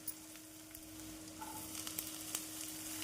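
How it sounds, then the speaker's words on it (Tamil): Onion and garlic sautéing in a pan, a soft, steady sizzle that stays faint and even throughout, with light clicks of stirring. "இந்த அளவு வெங்காயம் பூண்டு வதங்கி வரவும் நாம் காயை சேர்த்து விடலாம்."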